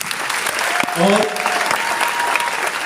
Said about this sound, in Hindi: आप सबके लिए जबरदस्त तालियां।